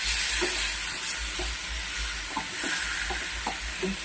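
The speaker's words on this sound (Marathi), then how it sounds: "त्यानंतर त्याला थोडंसं असं हलवून घ्यायचं आहे" Paneer stirred in hot oil in a pan for paneer tikka masala, an even close sizzle broken by repeated spoon scrapes and clinks, with no one speaking.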